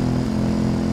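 Motorcycle engine in Farming Simulator 22, a loud, steady droning hum held close and constant for about a second, without any talk over it.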